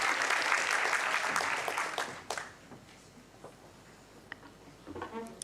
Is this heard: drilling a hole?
no